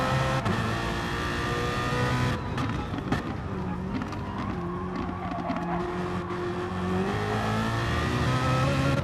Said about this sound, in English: On board the black light BMW.